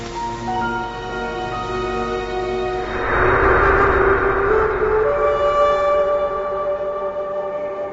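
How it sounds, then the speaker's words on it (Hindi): An ambulance siren wailing, its tone rising and holding loud and close over steady traffic noise before continuing at a lower level. "ये गाड़ी नहीं, एम्बुलेंस है अब।"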